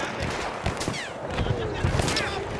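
Gunfire in the World War I shooter Battlefield 1: dense, overlapping shots crackling continuously at close range through the short stretch, with a faint voice underneath.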